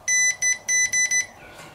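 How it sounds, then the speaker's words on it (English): A multimeter set to continuity beeps as its two probes touch during a fuse check on a SEGA Mega-CD II console repair: five short, sharp, high-pitched electronic beeps in an uneven rhythm, close and loud, with no talking. "If I put the 2 probes together, you'll hear it beep."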